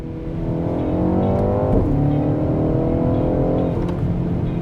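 Engine of a 2023 BMW M235i revving in second gear, the pitch climbing twice before a brief drop each time, a loud, sustained, close drone with no talking.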